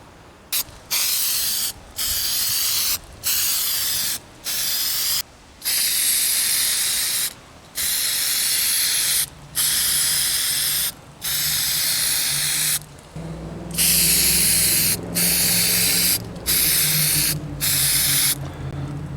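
Plasti Dip aerosol sprayed as a wet coat onto emblems on a 2021 Chevy Trail Boss truck: repeated bursts of hissing spray, each a second or two long, separated by short pauses, close and fairly loud with no voices.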